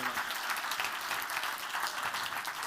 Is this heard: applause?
yes